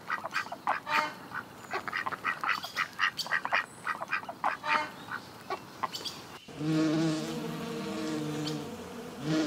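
A bee buzzes close by in a wavering, pulsing drone that rises and falls, then settles into a steadier, louder hum near the end.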